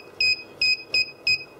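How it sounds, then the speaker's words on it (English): Four short electronic beeps from a FeelElec FY6900 signal generator's key-press buzzer sound at an even, quick pace, each a clear high tone, with quiet background between them. "the pressing of the keys, it's not that annoying when the buzzer sounds"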